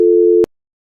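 A telephone busy signal sounds as one loud, steady tone lasting about half a second, then stops, leaving silence.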